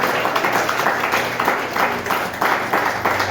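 Congregation applauding during a Spanish-language church service: dense, steady clapping from many hands, continuous and fairly loud throughout, with a faint murmur of voices beneath.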